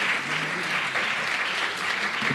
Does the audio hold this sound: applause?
yes